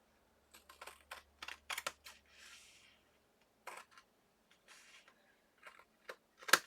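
Zig zag scissors snip through paper in short, crisp bursts, a series of close, quiet cuts with pauses between them and a louder final snap.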